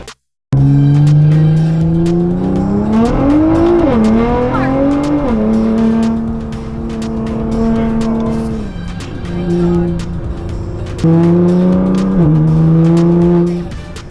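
A Nissan GT-R engine revs hard and continuously, pitch climbing and falling through several throttle blips, loud and close with no talking.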